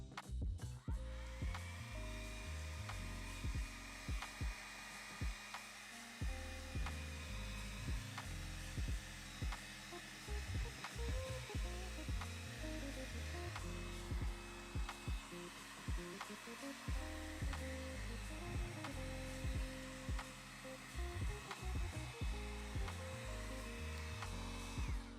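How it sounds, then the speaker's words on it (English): A hot air brush blows a steady, continuous whir while drying a sheet of paper during a collage craft, with faint intermittent scraping and shifting sounds mixed in. "I'm just gonna use a hairdryer, well, hot hairbrush, just to dry the paper just a little."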